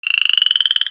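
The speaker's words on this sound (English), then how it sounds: "There is a frog in this duck pond. The frog jumps out and onto the bank." A frog croaks in a duck pond as a sound effect: one loud, close, rapid rattling trill of about twenty evenly spaced pulses lasting under a second, alone with no talk.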